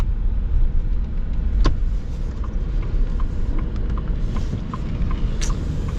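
A Ford F-150 PowerBoost hybrid pickup truck drives with a steady low rumble and road noise from inside the cab, with a few faint clicks and ticks.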